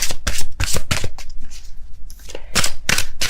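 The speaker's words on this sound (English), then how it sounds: "I'm shuffling the cards" Tarot cards shuffled by hand in a rapid run of crisp riffling bursts, a pause, then more quick shuffles close to the listener, with no voice over them.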